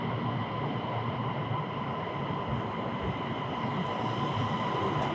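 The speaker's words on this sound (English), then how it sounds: "That's our train." A high-speed train pulls into a station in China on the Chengdu to Shanghai route, giving a steady loud rumble and hiss of rolling carriages with a faint high whine, no talking.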